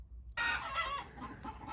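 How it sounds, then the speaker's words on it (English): Backyard garden hens cluck loudly and excitedly, several overlapping calls starting abruptly and continuing close by without pause. "my chickens are having a very loud conversation right now"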